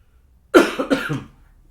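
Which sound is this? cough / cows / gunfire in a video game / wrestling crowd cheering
cough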